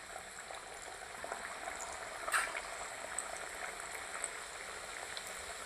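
Chakli made from homemade bhajani flour fry a few at a time in oil over a low flame, giving a soft, steady bubbling sizzle with a few small pops, faint and continuous.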